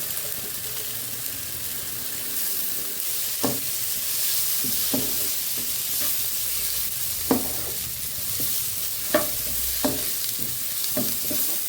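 Pre-fried gobindobhog rice is stirred into a simmering tomato masala for a Bengali fish-head murighonto, giving a low continuous sizzle with scattered distinct spoon scrapes and knocks against the pan.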